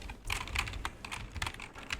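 Close, brisk typing on a computer keyboard while entering surface roughness text in Inventor drawing software, with uneven clusters of sharp key clicks spread across two seconds and no talk.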